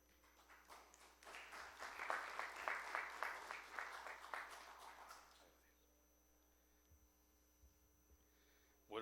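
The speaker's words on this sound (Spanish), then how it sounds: "Fuertes palmas." A conference audience applauds a speaker's introduction at a session on environmental taxation law, a moderate burst of clapping that builds, holds for a few seconds and fades out, leaving a quiet room with electrical hum.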